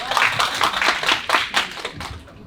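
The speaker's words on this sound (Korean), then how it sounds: "박수로 부탁드리겠습니다." An audience at an academic conference claps steadily to welcome a keynote speaker, a crowd of hands applauding at moderate loudness without voices on top.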